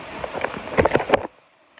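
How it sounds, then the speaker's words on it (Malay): Rain patters on a surface in a dense, close spray of drops that stops abruptly after about a second, leaving near silence. "Hujan."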